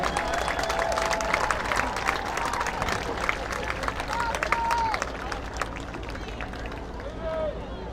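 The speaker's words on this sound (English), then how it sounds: "Big round of applause for our senior cheerleaders tonight." A stadium crowd at a high school football game between Venice High and Sarasota High applauds its senior cheerleaders with broad, dense clapping and cheering, while an announcer's amplified voice carries over the applause.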